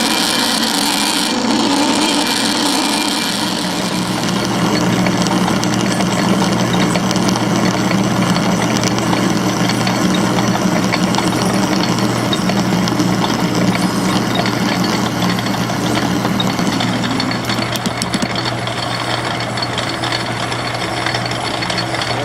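A lathe cuts a steam engine piston with a high-speed steel parting tool, a steady loud machining drone with broadband grinding and scraping that holds continuously throughout, with no talking.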